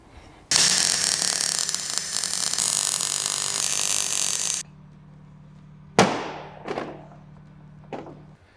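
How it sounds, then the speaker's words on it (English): A spot welder joins steel panels for a custom Mk2 Escort build, giving a loud, harsh crackling buzz of about four seconds, followed by a low hum and a few short sharp bursts and clunks. "we're going to pop some holes in this and then spot weld it to the inner piece"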